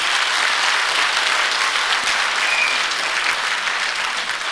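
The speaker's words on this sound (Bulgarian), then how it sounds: "Моля вашите аплодисменти." An audience at a Christmas concert in Plovdiv applauds in a dense, steady wash of clapping that holds at full strength for several seconds.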